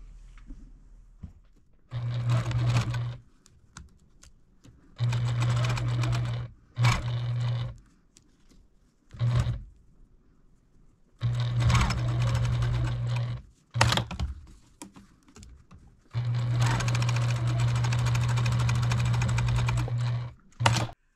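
Sewing machine stitching a fabric potholder: several close bursts of steady motor whirring, each lasting a few seconds, separated by quiet pauses and small handling clicks, with the longest run at the end.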